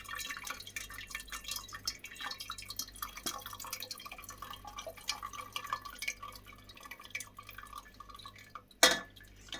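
Liquid from homemade chicken soup made from leftover roast chicken drains into a pan: faint, steady trickling and dripping throughout, ending with one brief louder clatter, no talking.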